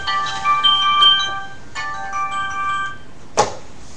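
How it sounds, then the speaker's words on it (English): A melodic electronic ringtone plays a repeating tune twice, fairly loud and close, ending with a brief clatter. "You can hear the phone ringing."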